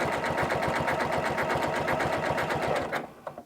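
A Janome CM17 sewing machine stitches a twin-needle broken-zigzag stretch stitch, a loud, close, rhythmic chattering run that stops abruptly near the end, leaving a few small clicks.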